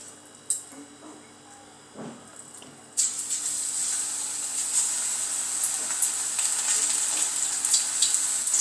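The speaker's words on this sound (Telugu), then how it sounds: "పకోడీ వేసుకుందాం." After a few soft clicks, onion pakoda batter goes into hot oil and a sudden bright sizzle erupts, then keeps hissing steadily up close for the rest of the stretch.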